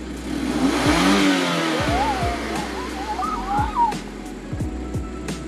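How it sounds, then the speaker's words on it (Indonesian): A 2016 Mazda CX-5 Touring engine revs up loudly, climbing in pitch, then drops back and revs again in short bursts, close by. "Kita geber dikit."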